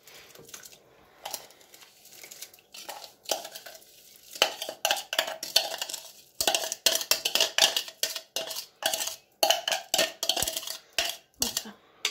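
A spoon stirs homemade lemonade in a bowl, with repeated scraping and clinking strokes close by. They start sparse and quiet, then grow louder and quicker in a steady rhythm.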